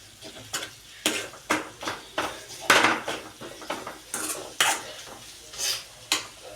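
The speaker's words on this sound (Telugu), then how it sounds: "ఆనియన్స్ ఇట్లా అన్నీ కొంచెం మగ్గాలి. దీనికి కొంచెం ఆయిల్ ఎక్కువనే పడుతుంది." Onions sautéing in oil in a pan for homemade noodles: a quiet sizzle under a run of rhythmic spatula scrapes and clinks against the pan, roughly one or two per second, with no voices.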